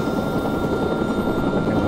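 Helicopter in the video game Watch Dogs, its rotor and engine producing a steady, loud, low droning whir with no break for the whole short stretch.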